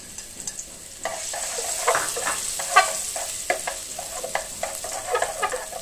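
Minced garlic sizzles in hot cooking oil in a pot, a steady close frying hiss broken by repeated scraping stirs.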